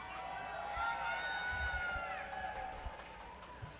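A roller derby championship crowd cheers and shouts at a banked-track bout, a loud sustained roar of many voices with whistles and shrieks, while an announcer's amplified voice talks over it.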